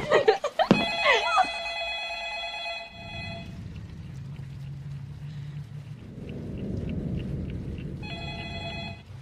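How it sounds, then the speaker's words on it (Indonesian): A telephone rings with bright, sustained electronic tones, then falls quiet under a low rumbling background before a short ring returns at the end. "Hingga terdengar suara telepon berdering"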